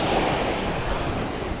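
Storm-driven surf pounds a beach, a steady broad roar of crashing waves with wind buffeting the microphone, loud and continuous with no voices.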